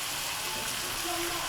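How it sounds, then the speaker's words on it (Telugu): Tomato and onion frying in a pan for chicken curry, a steady dense sizzle throughout, close and even, with faint voice in the background. "టమాటో ఆనియన్ అన్నీ కూడా లైట్గా ఫ్రై చేసుకోవాలండి"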